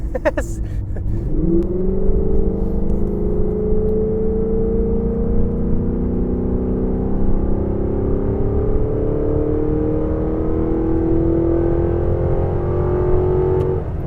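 A 2004 Cadillac XLR accelerates hard, its engine note rising sharply and then climbing steadily through the gear, loud and close from inside the cabin, with no talk.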